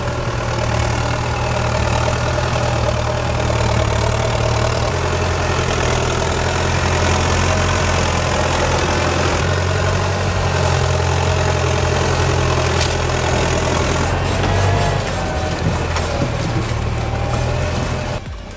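An old Belarus tractor's diesel engine runs at a steady idle in a forest logging setting, a loud, constant low throb with a knocking rumble and no pauses throughout.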